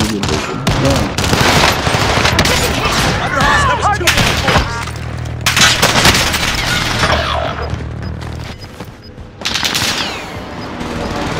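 Gunfire in Call of Duty: Warzone, dense loud bursts of automatic fire and booming shots almost without pause, with game voices and chatter mixed beneath.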